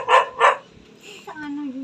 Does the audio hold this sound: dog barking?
yes